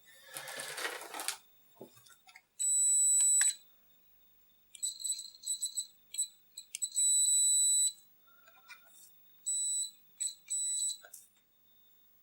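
Short electronic multimeter beeps from a continuity test on Wico Bat Handle joystick wiring, sounding in bursts of steady high tones with pauses between, clear and close.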